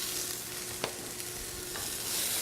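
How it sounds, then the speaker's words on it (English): Finely diced potatoes frying with chickpeas in a pan, a steady soft sizzle with a couple of brief stirring scrapes, close and alone without any voices. "Put an additional flavor in it by adding some finely diced potatoes."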